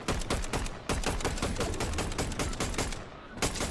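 Rapid bursts of automatic gunfire in Fortnite crackle continuously and loudly, with a brief pause near the end before the shooting resumes.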